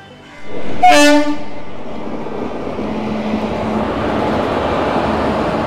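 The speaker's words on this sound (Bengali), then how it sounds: "আমাদের ট্রেন ঢুকছে শালিমার ভেজুরি আরণ্যক এক্সপ্রেস" Shalimar–Bhojudih Aranyak Express pulling into a station, opening with a loud, blaring horn blast that fades into a long steady rumble of rolling wagons close by.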